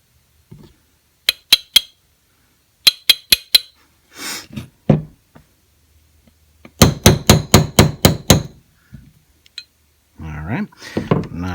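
A hammer taps a roll pin back into a Diamondback AM2 bolt: sharp metallic clinks in quick bursts of three to six strikes, close and loud, separated by pauses with some handling noise and brief speech.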